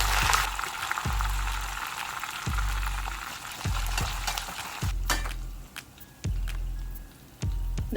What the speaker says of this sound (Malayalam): കുറച്ച് കറിവേപ്പിലയും ഞാൻ 2-3 പച്ചമുളക് കൂടെ ഞാനൊന്ന് വറുത്തെടുക്കുന്നുണ്ട്.